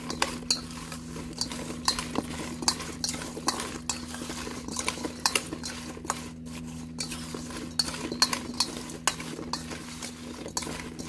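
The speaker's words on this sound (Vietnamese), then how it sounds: "Rồi bây giờ thì mình sẽ trộn nó luôn." Ambarella pieces are tossed and stirred with pounded salt and chili, giving steady clinks and scrapes of a utensil against a bowl in an irregular rhythm, close and moderately loud with no voices.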